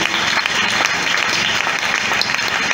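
A church congregation applauds loudly and steadily for Jesus, dense continuous clapping filling the room with a cheering crowd mixed in.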